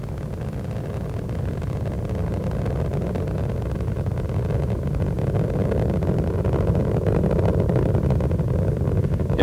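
Space Shuttle Endeavour's three liquid-fuel main engines roar during launch, a broad, continuous rumbling roar that builds slightly louder over several seconds, with no talk.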